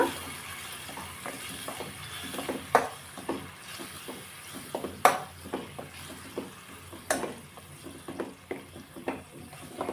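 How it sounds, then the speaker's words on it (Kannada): Dill leaf kofta mixture frying in oil, a soft steady crackle broken by repeated light scraping and tapping of a utensil against the pan. "ಇದು ಸ್ವಲ್ಪ ಎಣ್ಣೆಯಲ್ಲಿ ಸ್ವಲ್ಪ ಫ್ರೈ ಆಗಬೇಕು."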